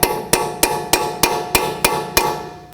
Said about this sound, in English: with a small hammer, tap on the end of the stud